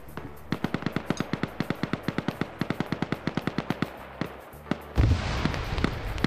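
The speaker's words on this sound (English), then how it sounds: "tossing some nades out" During an Arma PvP match, a long string of rapid, evenly spaced gunshots rattles on before a grenade goes off with a heavier, rumbling blast near the end.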